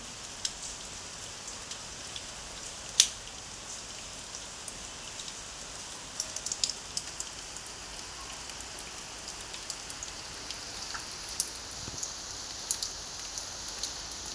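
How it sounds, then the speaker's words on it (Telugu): Heavy rain that has been falling since the night, a soft, steady hiss of rainfall with scattered louder drops striking nearby surfaces, continuous and with no talk. "ఇక్కడ చూడండి ఎంత ఫుల్ వర్షం పడుతుందో."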